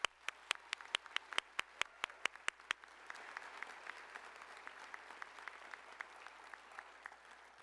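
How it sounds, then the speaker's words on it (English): Audience at a new student and family convocation ceremony applauding the platform party: a few sharp, close, evenly spaced claps come first, then a softer, denser spread of applause from a large hall crowd. "Let's give them a round of applause."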